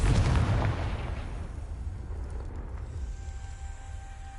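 A fiery spell explosion in the Hogwarts Legacy video game: a deep, heavy boom at the start that rolls off into a long rumbling tail and fades under a low ambient hum.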